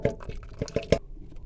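Liquid from boiled orange peels poured into a jug, a series of wet glugs and splashy drips in uneven rhythm, close and moderately loud, fading out at the end with no talking.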